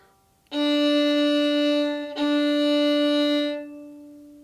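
A violin bowed in half notes gives two long, steady notes of the same pitch, each held for about two beats with a brief break between strokes, played close and clear with nothing else sounding.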